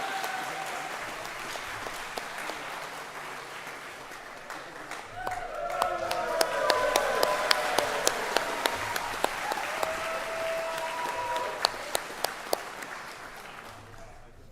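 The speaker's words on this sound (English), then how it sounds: "Please give both of the teams a round of applause." Audience applause for two competing rocket engineering teams at a Canada rocketry conference, a steady crowd clapping that swells midway with scattered louder claps, with voices talking faintly underneath.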